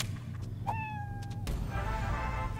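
A British Shorthair cat in the video game Fallout Shelter lets out a single clear, drawn-out meow that tails off, quiet against a low steady game background.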